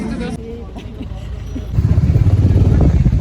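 A Royal Enfield Bullet 350cc motorcycle being ridden, its low engine rumble growing louder and rougher partway through, with traffic and voices in the background.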